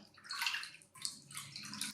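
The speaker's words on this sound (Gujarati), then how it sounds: "જાડા તળિયાવાળી કડાઈ કે તપેલી લેવાની અને એમાં 3 વાટકી પાણી ઉમેરવાનું છે" Water is poured into a heavy-bottomed pan or pot while making khichu, heard as soft splashing pours in separate bursts, close and fairly quiet, with no talking.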